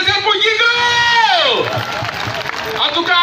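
An audience at a New Year 2021 performance show in Guiglo breaks into loud cheering, whoops and clapping after a sliding, tonal cry. The crowd noise stays continuous and close throughout, with voices shouting in the mix.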